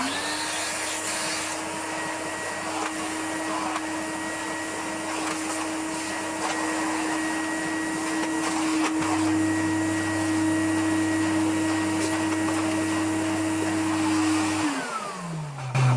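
A vacuum cleaner runs continuously over a newly unwrapped rug, a loud steady motor drone with a shift in pitch partway through before it powers down at the end.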